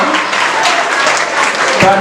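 Audience applause at a school quiz final as a contestant is introduced, dense clapping filling two seconds at steady loudness, with a voice audible over the crowd.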